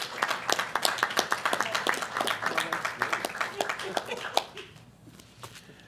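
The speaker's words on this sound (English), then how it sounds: "let's give our students a round of applause" Scattered hand clapping from a school board meeting audience honoring students, sparse and uneven claps that thin out toward the end, with faint murmuring underneath.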